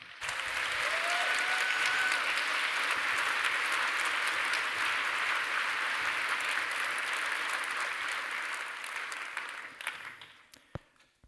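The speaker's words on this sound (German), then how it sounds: "begrüßt ihn mit einem tosenden Applaus" A lecture audience gives roaring applause as a neuroscience professor is welcomed, a thick, sustained wall of clapping from a large crowd lasting about ten seconds before tapering off.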